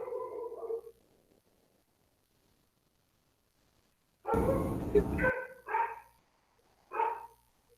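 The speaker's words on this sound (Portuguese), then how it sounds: "Cachorro é o cachorro daqui de casa." A dog barks inside a house in a few short, separated bursts: one at the start, then a louder cluster of barks after a quiet gap, and a final single bark. The barks are moderately close.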